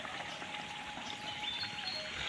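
Rain-fed village stream water pours and trickles down toward the river, a steady soft flowing hiss throughout, fairly quiet.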